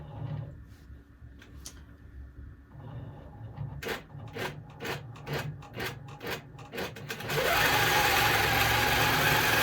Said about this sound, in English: Pro Stitcher, run, and here we go with the next one.